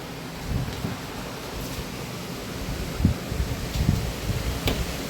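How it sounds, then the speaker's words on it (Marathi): Rain falls steadily outside a home as a broad, even hiss, with a few low rumbles rising through it and no voices. "पाऊस लागतोय बाहेर. आताच चालू झाला, मगासपासून नव्हता पाऊस."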